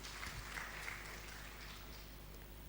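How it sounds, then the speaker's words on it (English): An audience claps in a formal national dialogue forum, a steady, faint wash of applause that holds for a few seconds without clear peaks. "Another round of applause to the Lady Dean."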